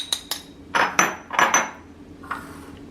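A spoon clinks and scrapes against a bowl while mixing cumin powder and spices, giving a handful of sharp metallic taps in quick, uneven succession, close and fairly loud, with no talk.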